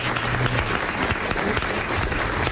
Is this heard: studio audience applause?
yes